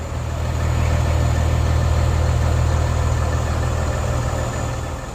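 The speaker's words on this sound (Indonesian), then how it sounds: "suara dari Hino RM 280 ABS yang sudah standar emisi Euro 4 teman-teman" A Hino RM 280 ABS bus engine meeting Euro 4 emissions idles steadily and smoothly, a loud, even low rumble held throughout with no talk over it.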